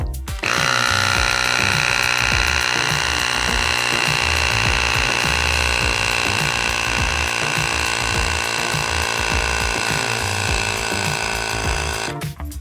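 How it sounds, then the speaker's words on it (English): An electric tire pump inflates a Razor Pocket Mod scooter's inner tube to 40 psi, running as a loud, steady mechanical drone with a rhythmic pulsing throb that stops abruptly at the end. "Using your tire pump, inflate the tire to 40 psi."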